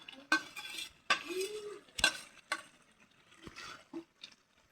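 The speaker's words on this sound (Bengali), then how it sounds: "এখন এই যে মাছটা দিয়ে দিব।" Fish is added to softened, cooking vegetables in a pan: several distinct, close knocks and clatters of utensil against pan, with a faint sizzle between them that fades toward the end.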